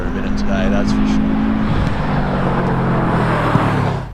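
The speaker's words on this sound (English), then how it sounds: "in his WRX coming through." A Subaru WRX competing at a lakeside hillclimb roars past nearby, its engine droning steadily loud across the whole stretch alongside a commentator speaking over the public address.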